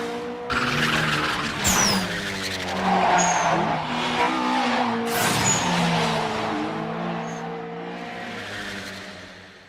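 Toyota 86 race cars, one turbocharged, tearing past with squealing, skidding tires and wailing engines, loud and close, the pitch swooping as they drift by in overlapping bursts, no talk.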